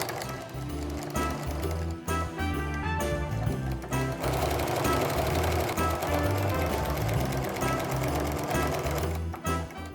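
A sewing machine runs in steady rapid bursts close up as it stitches in the ditch around the corners of a quilted snowflake mug rug, stopping briefly twice between runs.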